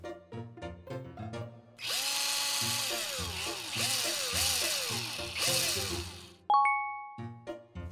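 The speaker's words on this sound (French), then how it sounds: "Et maintenant, je vais visser." A toy drill whirs in several short bursts while screwing parts onto a toy tractor, rising and falling in pitch, between bright toy jingles and dings and quiet tapping of plastic pieces.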